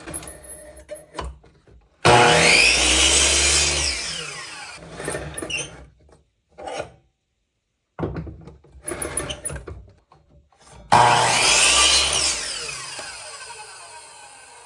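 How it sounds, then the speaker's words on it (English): An inexpensive chop saw set for 45-degree cuts slices clamped pine frame sides and bottoms, two loud whining cuts that spin up and wind down, with quieter handling noises and silent gaps between. "I'm going to cut my frame sides with an inexpensive chop saw set for 45-degree cuts"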